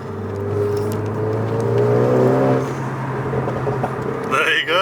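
Renault Megane RS engine in race mode, a droning engine note that rises in pitch as it revs up inside the cabin, then settles, with talk over it.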